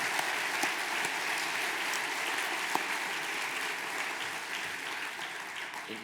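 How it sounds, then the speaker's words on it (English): Audience applause for a conference panel, a steady, dense round of clapping from a sizable crowd that holds evenly for several seconds. "Please join me in giving a round of applause to our incredible panel"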